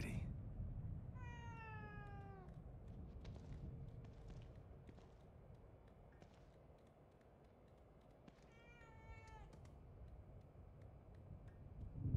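A cat in the horror video game The Evil Within 2 meows twice, a drawn-out call early and another later, both faint over a low ambient rumble with light footsteps.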